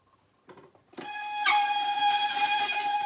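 Ratchet gear on a wine press spinning down while pressing Petite Sirah: a few soft clicks, then a loud, sustained metallic ringing whir that holds steady close by, with no speech.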